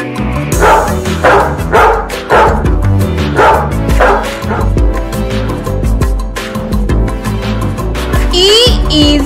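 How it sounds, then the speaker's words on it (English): A dog barking and yipping repeatedly over a bright backing of children's music, loud and close, with a short whimper-like sound near the end. "dog."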